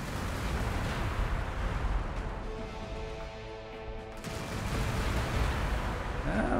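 Heavy weapons fire from units in Warhammer 40K: Gladius, Relics of War, Astra Militarum forces, a continuous rumbling barrage of booms and crashes that swells, dips briefly, then surges again, with faint talk underneath.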